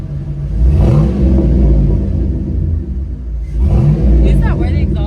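A truck with an LS engine and exhaust stacks revs in two bursts of deep engine rumble close by, while people talk over it.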